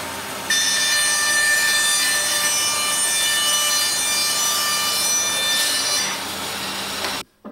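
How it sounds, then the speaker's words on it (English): A quality bandsaw, set up for woodworking, cuts through a board with a steady, loud, hissing rasp that runs for several seconds before the blade clears the wood and the sound drops away abruptly. There is no talking. "with a quality bandsaw, you can make cuts that you would normally make on a table saw"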